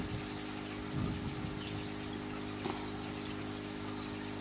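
Australian native fish in an aquaponic tank splash at fish food at the surface, a steady watery rush with a couple of brief louder splashes over a constant low pump hum.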